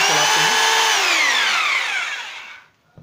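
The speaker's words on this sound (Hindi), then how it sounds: "मान लीजिए एक बार चला के दिखा देता हूँ आपको, मैं एक बार ड्रिल वाले मोड पर ले आता हूँ" A new hammer drill running in drill mode whines loudly and steadily at close range, then spins down and fades out near the end, with no talk over it.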